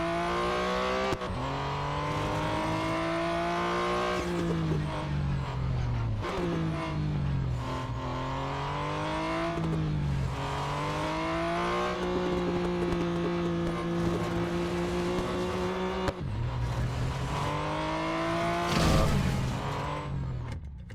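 A race car in the Real Racing 3 mobile game accelerating out of corners, its engine note rising loudly through repeated gear changes with brief drops between shifts, continuous and close with faint tire squeal and no talking.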